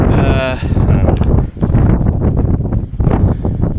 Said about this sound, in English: oh my god, it's so windy now